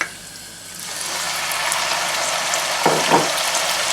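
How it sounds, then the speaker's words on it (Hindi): Spices and onion frying in a pan for mutton korma, a steady hiss that rises and holds, with a couple of short clatters near the end. "आप देख ही रहे हैं कि वो फ्राई होना शुरू हो चुका होगा स्पाइसेस बीच में"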